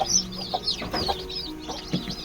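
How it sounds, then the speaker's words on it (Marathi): Chicks in a brooder cluck and chirp softly while eating crushed maize, with several short peeps and a low, quiet murmur of calls close by. "आता ते मक्याचा भरडा खात आहेत हे बघा"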